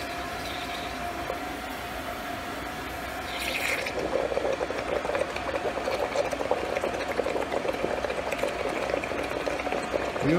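Water boiling in a small vessel to make steam for a homemade distilled water condenser, a steady hissing bubbling that grows louder and busier partway through and stays constant to the end.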